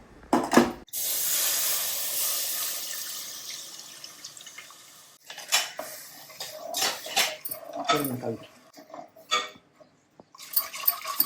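Milk is poured into a butter and flour roux seasoned with oregano for a broccoli white sauce, a steady pouring hiss followed by scattered spoon clinks and scraping against the pan as it is stirred.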